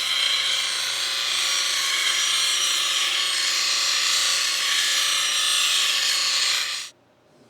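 A bench grinder removing the heel of a steel woodturning gouge gives a loud, steady, high-pitched grinding hiss for about seven seconds, which then cuts off abruptly.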